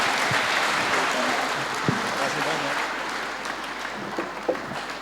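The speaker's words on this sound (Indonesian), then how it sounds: "Aplaus untuk mereka teman-teman." Audience at a live-recorded church spiritual class gives steady applause, a continuous hiss of clapping with a low hum underneath and a few sharper taps standing out.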